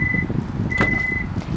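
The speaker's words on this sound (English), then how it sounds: "it will let you know that you're there by these beeps" 2015 Kia Sedona rear proximity key alert, two short high electronic beeps, the second longer, over low background rumble.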